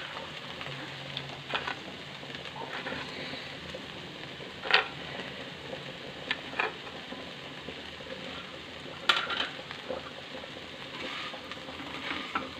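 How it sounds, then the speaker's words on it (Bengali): Fried bori lentil dumplings are stirred into cooked vegetables with potato in a pan, a soft steady sizzle broken by a few sharp scrapes and clinks of the spoon. "বড়িটা সবজির সাথে ভালো করে মিক্স করে নিতে হবে।"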